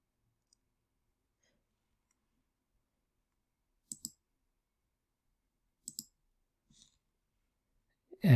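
Computer mouse clicks sound as a few faint, sharp, isolated taps spaced seconds apart in a quiet room, with a soft thump at the very end.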